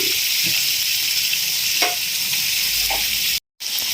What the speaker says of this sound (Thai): ทอดกุ้งปลาหมึกกันก่อน